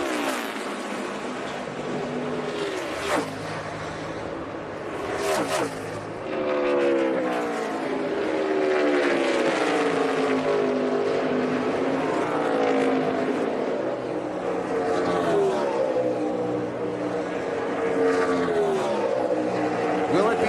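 NASCAR stock cars race at the Brickyard 400 in Indianapolis, engines wailing and shifting pitch as they pass, under a crowd's steady roar and a commentator's voice.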